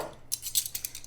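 A metal spoon set down on a table at a mealtime, a few quick light clinks and taps over a quiet room hum, close and brief.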